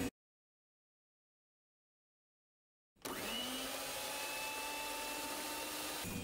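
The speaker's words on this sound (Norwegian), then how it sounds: "Jeg velger å bruke en sånn håndmikser" An electric hand mixer beats gluten-free waffle batter with milk in a bowl, a steady whirring drone starting abruptly after three seconds of silence and running on evenly, close and moderately loud.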